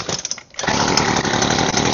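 A weed eater's small two-stroke engine runs roughly, dipping briefly before revving back up into a loud, buzzing, uneven drone, close by.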